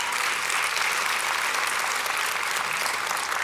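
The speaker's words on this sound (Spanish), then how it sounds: "Denle un fuerte aplauso al Señor." Church congregation claps loudly and steadily during a Spanish-language service, a thick continuous burst of applause with no voices standing out.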